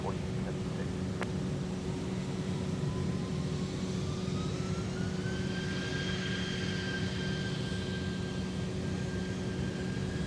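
A Cessna Citation XL private jet at Minneapolis–St. Paul airport gives a steady, moderately distant engine whine with a tone that rises and then holds, over a constant low hum, with no talking.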